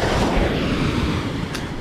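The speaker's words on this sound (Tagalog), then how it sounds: "Ito yung pinakadila ng alon." Ocean waves washing up onto a shore, a steady broad rushing wash that stays loud and close throughout, with wind buffeting the microphone and no voices.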